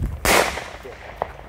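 A firework mini-shell goes off outdoors with a sharp, loud bang that decays over half a second, followed by a small faint crack about a second later.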